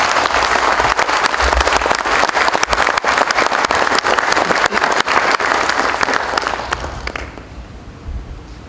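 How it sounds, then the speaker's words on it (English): Audience at a National Survey Day event at the Survey of India clapping for elders, a dense, loud round of applause that fades out near the end. "Let's clap for them."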